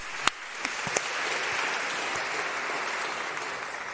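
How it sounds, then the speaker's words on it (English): An audience in a church claps together for a speaker, a steady, moderately loud wash of applause with a few sharp louder claps near the start. "you can applaud right there."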